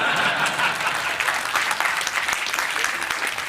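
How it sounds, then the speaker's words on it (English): Audience applause at an SAP enterprise architect learning forum, steady and dense throughout, loud and close, with crowd noise mixed in. "You can clap louder, please."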